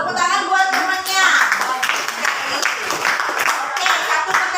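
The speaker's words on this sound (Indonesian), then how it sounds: "Tepuk tangan buat temannya." Children clap for a classmate in a primary school classroom, a dense burst of applause running the whole few seconds at steady loudness, with a voice audible under it.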